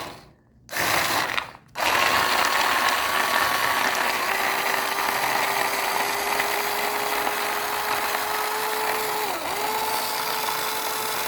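A repaired mini electric food chopper starts after two brief false starts, then runs with a loud, steady, buzzing motor whine and a ratcheting rattle as it chops, with a slight dip in pitch near the end.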